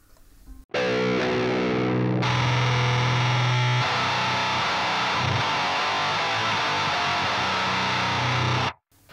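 A Boss HM-2 distortion pedal powered from a regular 9-volt supply plays a loud, saturated guitar tone: a sustained chord rings, then shifts to denser, buzzing chords that hold steadily before cutting off, with no voices.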